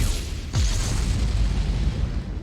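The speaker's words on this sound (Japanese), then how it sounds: "破壊範囲に別の爆発物があったときは連鎖的に爆発します。" A deep, booming explosion from the space-building game Starbase, as stacked explosives detonate in a chain. One heavy blast hits early, followed by a rumbling, rolling low roar that carries on at steady loudness.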